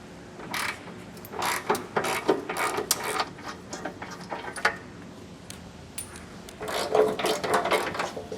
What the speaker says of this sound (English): Now I'm going to get the other 2 off with a socket.